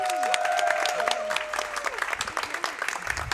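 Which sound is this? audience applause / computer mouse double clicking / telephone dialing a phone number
audience applause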